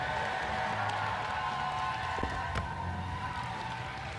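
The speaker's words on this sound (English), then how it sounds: "give a warm Central Washington welcome and a round of applause for your Master of Ceremonies, Blair Hundermark." Crowd at a Central Washington event claps and cheers to welcome the master of ceremonies, a distant, steady wash of applause with a low hum under it.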